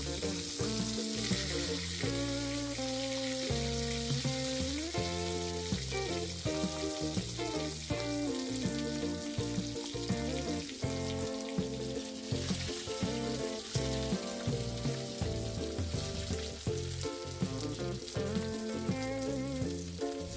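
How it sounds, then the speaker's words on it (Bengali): Boiled eggs rubbed with turmeric and salt fry in hot oil in a kadai, giving a continuous close sizzle with occasional stirring while music plays throughout. "কড়াইতে তেল গরম হয়ে গেলে এবার ডিমগুলোকে আমি ভেজে নেব।"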